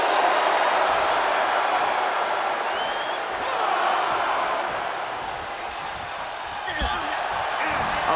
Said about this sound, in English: And Vega is firing up the crowd here.